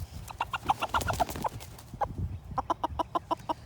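A show hen clucks repeatedly up close while being handled, a run of quick agitated clucks, a short pause, then another steady burst of rhythmic clucking.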